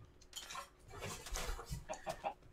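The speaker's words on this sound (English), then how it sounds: "I don't want to kill the chicken." Chickens clucking in the Minecraft video game, several short game-audio clucks mixed with clattering, item-like clicks, moderately loud and close with no talking.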